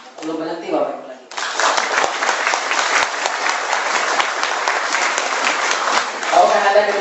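A voice speaks briefly, then a large audience at a Jakarta presentation event bursts into loud, sustained clapping that continues steadily to the end, with talk returning faintly near the close.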